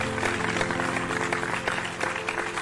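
An online stream audience claps and cheers in a continuous burst, moderately loud and steady for a few seconds, with no talking over it.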